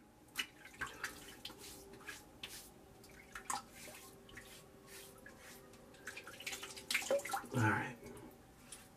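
Quiet water splashes and drips near a sink as hands wet a face before shaving, with soft irregular sloshing over a faint background hum.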